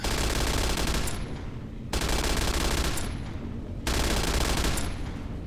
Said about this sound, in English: I have no idea what it's still shooting at.